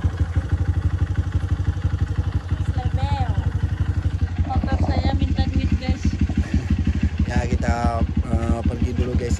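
A motorcycle that is burning oil chugs steadily while being ridden, its rapid rhythmic engine pulses loud and close throughout, with people talking over it at intervals.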